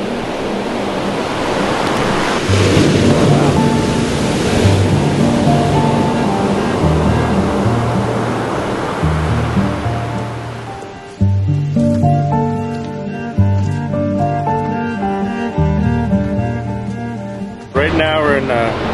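Ocean surf washing on Shai Shai Beach, a continuous broad rush with wind noise, heard under steady background music that runs throughout.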